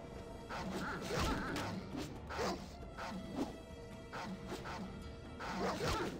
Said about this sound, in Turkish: Burada böyle köpekler basmış buraya direkt.